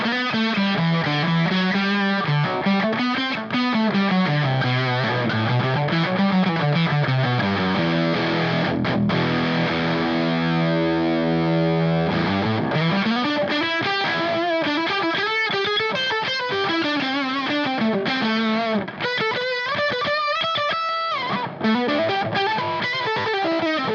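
Electric guitar riff through a Dunlop JHOC1 Octavio octave fuzz emulation into a dirty amp, loud and buzzy with a ringing upper-octave edge, sliding and sustained notes played continuously with no talking.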